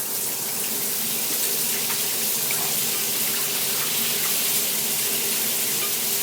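Water streams steadily from a newly installed 8-inch handheld high-pressure shower head, a constant broadband hiss from start to finish with no speech.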